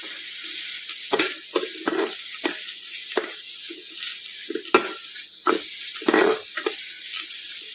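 Oil sizzles in a pan in a home kitchen, a steady close hiss broken by repeated stirring scrapes and louder crackling bursts, with no voices over it.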